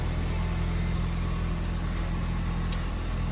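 A 2023 Ford Bronco engine runs steadily after starting, a constant low idle hum with mid-range noise and no clear revving, heard close and alone.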